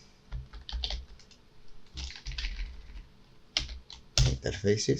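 Computer keyboard typing in short bursts of keystrokes while a folder name is entered, close and moderately loud, with a voice speaking briefly near the end.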